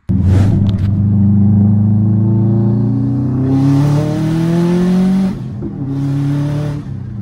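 A 2.5-swapped Subaru WRX engine revving up in two loud, rumbling pulls, its pitch climbing steadily, with a brief drop between them and no talk.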